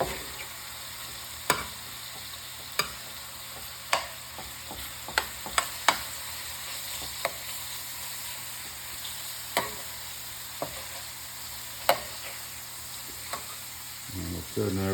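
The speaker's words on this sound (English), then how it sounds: "You want to make sure to move your shrimp around a little bit when you're cooking them" Shrimp frying in a pan with a soft continuous sizzle, punctuated by a dozen sharp clicks and scrapes of a spoon turning them, with no talking.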